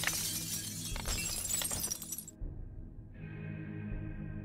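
Regular window glass shatters in the 7 Days to Die game, a sharp crash with scattering shards over about two seconds, then cutting off abruptly to a low ambient hum.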